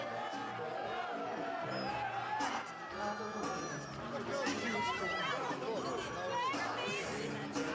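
Crowd at the Cannes red carpet steps, chattering and calling out with occasional whoops, a busy lively babble at moderate distance, continuous for several seconds.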